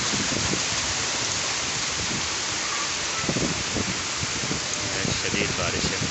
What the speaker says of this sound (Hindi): अभी बहुत तेज़ बारिश है।